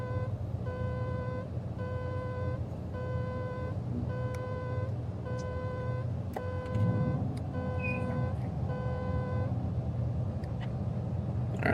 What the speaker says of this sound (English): Gonna beep at me because my gear's up.